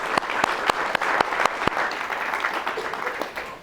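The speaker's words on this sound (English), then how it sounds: "this is more applause than Feynman ever got" Dense applause from an audience at a university alumni reunion gathering honoring Richard Feynman, steady and close with a few sharp individual claps standing out, fading slightly toward the end.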